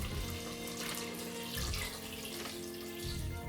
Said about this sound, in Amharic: ከዛ እዚህ ጋር የሞቀ ውሃ አለኝ፣ እሱን እንደዚህ እንከልስበታለን።